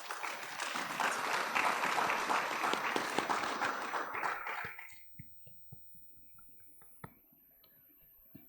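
Applause breaks out at a scholarship awards ceremony, full and steady for about five seconds before dying away abruptly, leaving a quiet room with a few scattered clicks and taps.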